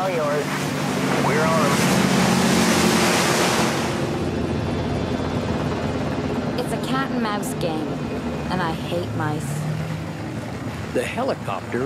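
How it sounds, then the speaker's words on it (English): Helicopter rotor wash whips up sea spray over open ocean, a steady loud roar of wind and surf with engine drone underneath, while people talk over it through much of the stretch. "We get creative with the rotor wash. Whips up the sea spray, makes it real hard for them to navigate"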